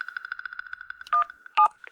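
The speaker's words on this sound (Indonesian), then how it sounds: "Aku telepon bank sekarang." A telephone keypad sends a rapid, evenly spaced string of short dialing tones while calling a bank, followed by a couple of longer, louder beeps, close and clear with no voices.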